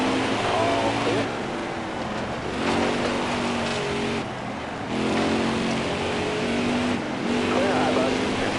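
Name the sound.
race cars on track in NASCAR Heat 4 video game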